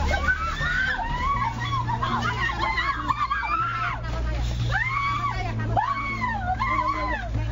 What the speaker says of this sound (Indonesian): Sejumlah wanita PSK meronta dan menjerit histeris saat ditangkap petugas Satpol PP di wilayah Jakarta Barat.